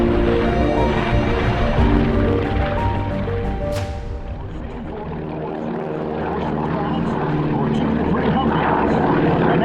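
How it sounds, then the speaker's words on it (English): A WWII C-47 propeller transport aircraft takes off with a loud, continuous multi-engine roar that briefly dips and then swells again, and a voice commentates over the engines. "Taking off, ladies and gentlemen, the C-47."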